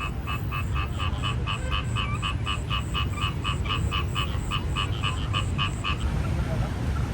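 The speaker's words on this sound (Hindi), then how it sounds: "मैं आपको मेंढक की आवाज़ सुनाता हूँ," Frogs croak in a fast, steady series of pulses during an outing in Vietnam. The calls run close and clear for about six seconds over a low background rumble, then stop.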